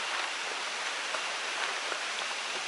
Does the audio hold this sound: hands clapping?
no